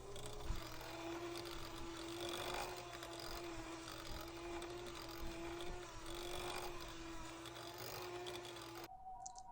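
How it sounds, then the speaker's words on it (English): An electric mixer whisks a creamy baked potato filling, its steady mid-pitched motor whine running continuously and fairly quietly, then cutting off abruptly near the end. "with my mixer, I'm going to whisk this until it is well combined and it's nice and creamy"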